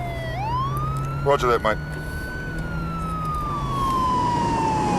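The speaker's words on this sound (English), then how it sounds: "Police car that just been past with sirens going and going quite fast." A police car with its siren wailing passes by quite fast on the road, the steady rising and falling tone sweeping past close by, while someone speaks briefly over it.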